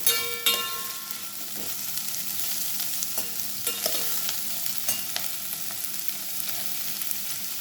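Green gram is sautéed with gongura and methi leaves in a pan, giving a steady close sizzle with scraping stirs and clinks throughout, and no one speaks.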